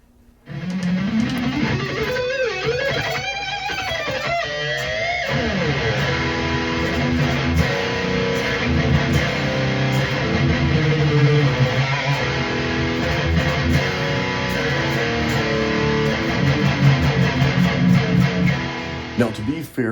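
Music plays through a pair of Kali Audio IN-8 V2 studio monitors in a home room, a full, steady mix running continuously at moderate loudness for the whole stretch.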